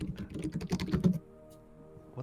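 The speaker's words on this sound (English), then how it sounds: "Sorry, I was typing something." Rapid keystrokes on a computer keyboard during an online tabletop role-playing session, a dense burst of clicking for about a second that stops abruptly, followed by quiet room tone.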